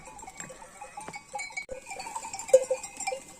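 A flock of sheep being herded at sunrise bleats in scattered calls near and far, with faint clanks like a bell and light shuffling, fairly quiet overall and without talk.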